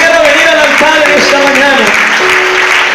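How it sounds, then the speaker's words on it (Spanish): Church congregation clapping for the Lord, loud and continuous, mixed with music and voices throughout a short burst. "Démosle ese aplauso fuerte al Señor"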